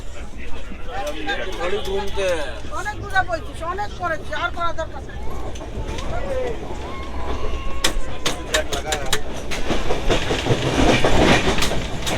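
Inside the Sealdah Rajdhani Express, a rhythmic clickety-clack of wheels on rail joints and a steady rumble run throughout, under a voice speaking and faint background chatter.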